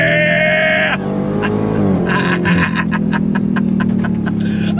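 A Dodge Challenger Super Stock muscle car's V8 roars under hard throttle, loud and close. The engine note climbs in pitch through the revs, with a shift partway through and a continuous rumble underneath.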